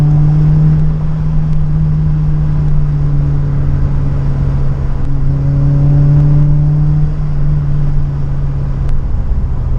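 A Scion xB fitted with upgraded suspension is driven hard through a corner, its engine droning steadily at high revs with a rising tone near the end, loud and close from inside the car.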